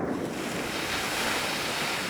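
Ocean surf washes onto the Kamchatka coast, a loud, dense, continuous hiss of breaking water with wind buffeting the microphone, and no voices.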